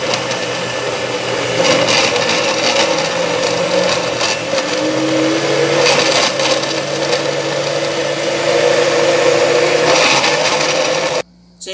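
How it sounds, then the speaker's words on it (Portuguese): A blender whirs loudly and continuously, its motor straining and grinding through chunky carrot pieces before cutting off abruptly at the end. "Agora nós vamos acrescentando a cenoura aos poucos, tá, gente? Para não pesar o liquidificador."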